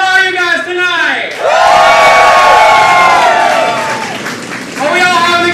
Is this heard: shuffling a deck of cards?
no